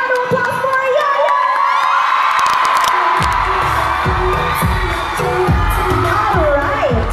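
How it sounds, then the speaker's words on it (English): Fans at a celebrity meet and greet in Manila for actress Urassaya Sperbund cheer, whoop and shout loudly, with a voice talking over the crowd noise and rhythmic bangs in the second half. "let's give a round of applause for Yaya!"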